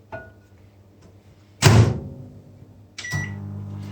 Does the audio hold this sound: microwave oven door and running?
yes